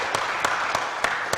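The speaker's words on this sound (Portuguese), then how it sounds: "Recebendo os aplausos!" Audience applause for a pastor stepping forward at a Baptist theology seminary, a dense steady wash of clapping with a few louder claps standing out at a regular pace.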